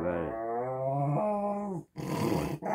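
A dog growls in a long, harmonic, rising-and-falling rumble lasting nearly two seconds, close and loud, followed by a couple of short, noisy snarling bursts.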